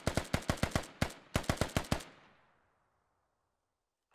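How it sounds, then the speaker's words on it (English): Gunfire in the video game Squad: a rapid string of about a dozen sharp, loud shots in quick bursts, with a short pause midway, then a fading reverberant tail and near silence. "CG Fu is about to pop up and fire a couple shots."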